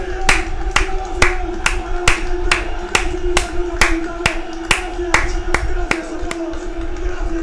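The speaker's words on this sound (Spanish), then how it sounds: "¡Ovación para la gente!" A large crowd claps in steady rhythm at a live streaming event, La Velada del Año 3, with sharp claps landing about three per second over a constant hum and murmuring voices.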